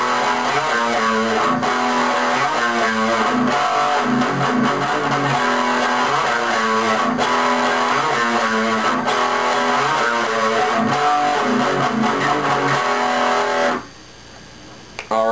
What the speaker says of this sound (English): The main riff of the song, which is the most popular part of the song, sounds like this.